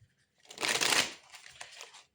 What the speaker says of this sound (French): on va aller tirer d'autres cartes